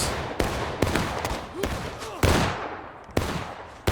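Musket and rifle volleys from an American Civil War battle in the game War of Rights, a series of sharp, loud shots at irregular intervals, some close and some farther off, with echoing tails between them.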